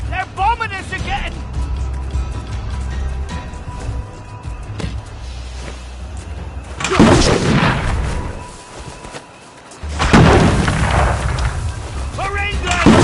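Heavy bombing explosions in the video game We Happy Few boom and rumble loudly in repeated waves, overlapping with shouting voices.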